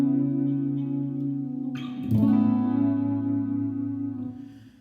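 Mellow electric guitar chords on a Stratocaster, played with a gentle fingered vibrato and no tremolo bar, sustained notes ringing out with a chord change midway, heard alone with no talking.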